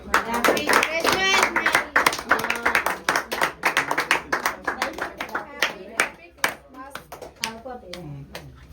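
A small group clapping at a Christmas prayer gathering in a home, bursts of brisk uneven applause that thin out toward the end, with voices talking over it.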